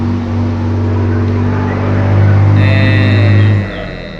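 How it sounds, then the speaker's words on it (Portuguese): A truck rolls past close by, a loud steady low engine rumble that swells and fades over a few seconds, with no talking. "Passou o caminhão"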